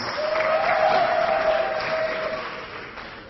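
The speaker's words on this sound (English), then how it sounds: "A big, big round of applause," An audience at an academic award ceremony breaks into applause, a dense burst of clapping that swells and then slowly fades over a few seconds, heard alone without talking.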